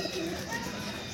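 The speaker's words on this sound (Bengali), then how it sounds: "টানা শীষের পায়রা" A roller pigeon coos softly in a brief, faint burst amid a noisy background with some voice nearby.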